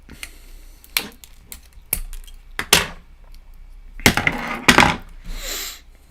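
Flush cutters snipping the excess component leads on a freshly soldered Larson Scanner circuit board, a series of sharp clicks spaced irregularly over several seconds, close and crisp against near silence.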